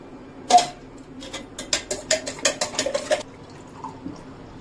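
A spoon stirs garlic buttermilk (chaach) in a glass, making a quick series of close, crisp clinks and taps against the glass, with one early knock followed by a rapid cluster before it stops.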